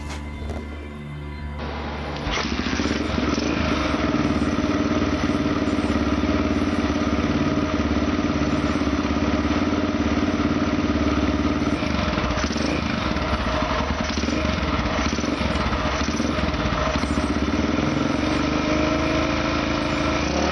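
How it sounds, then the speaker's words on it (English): A motorcycle's newly fitted engine runs continuously, close and loud, after a brief quieter start, holding a steady rough idle with slight rhythmic chugging and no voices over it. "Actually, that motor runs pretty good."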